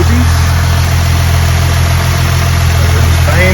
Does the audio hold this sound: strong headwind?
no